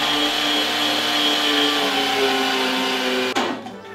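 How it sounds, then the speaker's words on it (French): An electric meat grinder mincing beef runs as a steady, loud motor whine, then cuts off abruptly near the end and leaves a brief rattle. "la machine on la place, le bol ici, et la viande on la hache"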